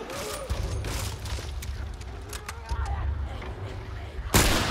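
Gunfire and heavy booms in The Last of Us while fighting clickers: a run of sharp shots and blasts over a low rumble, ending in a loud burst. Game voices or a player talk faintly beneath.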